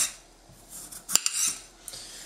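A ceramic knife cuts a large potato into rounds, giving a few crisp, bright slicing clicks against a board with faint pauses between strokes.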